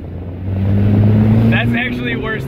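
A Honda car engine with a Microsquirt fuel-injection install is pushed to full throttle, a steady, droning rev that swells and holds, heard from inside the cabin as people talk over it.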